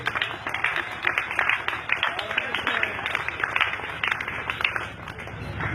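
A church congregation applauds during a sermon, steady dense clapping filling the space with crowd noise and voices mixed in throughout.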